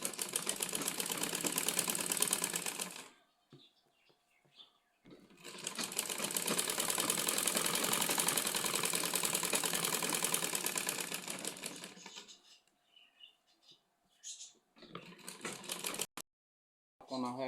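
An electric sewing machine stitches piping onto a square neckline, running in two long loud bursts of rapid even stitching separated by pauses filled with short clicks and handling noises.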